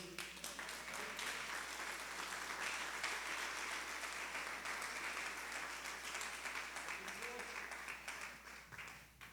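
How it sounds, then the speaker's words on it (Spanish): Church congregation applauding during a Spanish-language sermon, dense sustained clapping from many hands, fairly faint and distant, tapering off near the end. "¿Cuánto le pueden dar un aplauso a nuestro Dios?"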